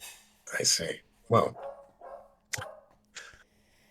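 A dog named Ceres barks indoors at lunchtime, several sharp woofs spaced through the moment, some near and loud, others shorter, while a person talks over and between them.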